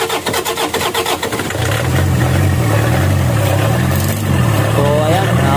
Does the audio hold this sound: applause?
no